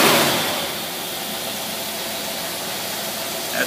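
Small Predator engine with a rebuilt carburetor idling, a steady, close hissy drone that holds evenly throughout with no voices.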